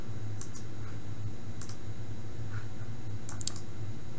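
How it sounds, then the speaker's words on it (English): Sparse, light keystrokes on a computer keyboard while entering a username and password to connect to a VRS network, a few soft clicks spread over a steady low hum. "you're going to type in your username and your password"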